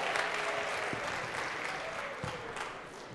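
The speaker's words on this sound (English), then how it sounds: "Give him another round of applause" A chapel audience applauds in a steady, dense round of clapping at moderate distance, sustained without pause for the whole span, with no voices standing out.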